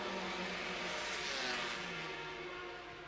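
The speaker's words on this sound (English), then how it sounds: "Oh, there's a fast bike." A Honda two-stroke historic racing motorcycle at the Estoril Classics circuit passes with a high, buzzing engine whine that swells loudly, then fades as it pulls away down the straight.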